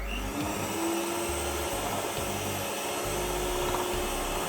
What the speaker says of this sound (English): I'm gonna whisk it a little bit more